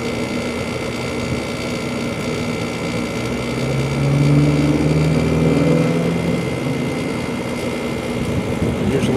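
A rattly garage air conditioner compressor starts up, a steady low mechanical drone that swells and rumbles harder partway through before settling back, heard alone and fairly loud.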